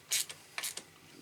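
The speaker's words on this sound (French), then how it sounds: "Je vais chercher une clé dynamométrique pour bien serrer ça au bon couple." Torque wrench tightening a bolt while fitting auxiliary lights to a BMW R1200 RT LC motorcycle: a few quick, faint ratcheting clicks in two short bursts, close by, with no talking.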